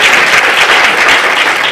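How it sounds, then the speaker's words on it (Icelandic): Audience applause for a youth council at an Icelandic talk event: steady, dense clapping from many hands, loud and continuous throughout with no voices over it. "Og ég vil bara klappa fyrir ungmennaráðinu."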